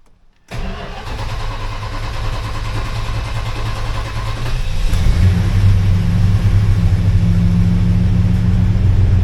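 A 1970 Dodge Coronet 440 V8 with an electric choke cranks briefly and catches, then settles into a loud, close, rumbling idle that rises slightly in pitch partway through; nobody speaks.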